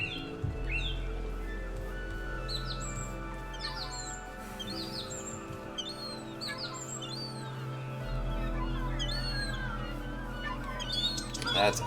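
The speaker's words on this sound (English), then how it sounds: "That's ocean sounds, so you can hear those seagulls" Seagull calls in a Minecraft ocean biome, several short squawking cries scattered over a steady low ocean rumble, moderately faint with no talk.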